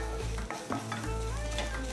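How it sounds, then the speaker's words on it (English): Masala spices for Sindhi seyal dabroti frying in a pan, a steady close sizzle with a few scraping stirs partway through. "as you can see, then the masalas are frying"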